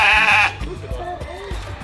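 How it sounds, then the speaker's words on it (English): A sheep at an Australian wildlife center gives one loud, close bleat lasting about half a second, followed by quieter sounds with people talking nearby. "I think he means sheep."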